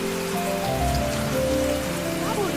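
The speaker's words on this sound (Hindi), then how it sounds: "बहुत बारिश हो रही है" Heavy rain pours down in a steady, dense wash across the whole stretch, loud and close, with a few faint tonal notes sustained underneath.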